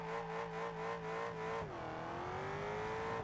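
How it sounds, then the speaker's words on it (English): A Mercedes GLS AMG accelerates hard in the BeamNG driving game, its engine note climbing steadily, then dipping at a gear change around the midpoint before rising again. It is loud and continuous, with no talking. "it's take the GLS AMG to the top speed"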